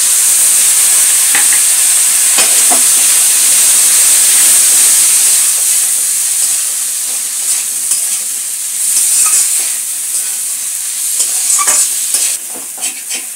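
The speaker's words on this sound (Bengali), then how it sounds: "এইবারে এই মাছটা এর মধ্যে দিয়ে দিচ্ছি, দিয়ে অল্প একটু জল দিয়ে কষবো।" Dried lotte fish sizzles loudly in oil and curry paste while being stirred, a steady close frying hiss with repeated scraping stir strokes throughout.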